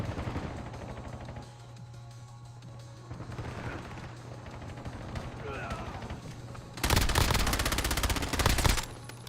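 Rapid bursts of automatic gunfire, loud and close, crackling across the full range during the latter part of a game match, with voices and background game noise beforehand.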